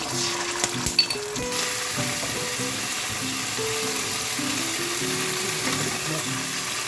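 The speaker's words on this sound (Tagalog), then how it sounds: "Dito, mag-prepare na tayo ng kawali, lagyan ng olive oil, saka ginger and garlic paste. So yan, igisa lang natin siya." Ginger and garlic paste sautés in olive oil in a pan, giving a steady, close sizzle with a few sharp utensil clicks near the start, while a tonal melody plays underneath throughout.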